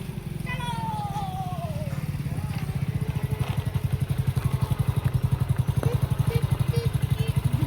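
A motorcycle engine idles close by with a steady, throbbing putter that grows slightly louder, while brief voices sound at the start.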